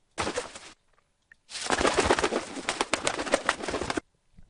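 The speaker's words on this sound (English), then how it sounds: "I'm definitely going to need some birds flapping away quite rapidly" A short burst of rapid wing flapping, then a longer flurry of fluttering wingbeats, loud and close, with no voices.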